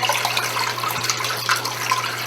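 A top-load fully automatic washing machine fills with fresh, clean water after draining, a constant rushing, splashing flow over a low electrical hum, heard close and unbroken.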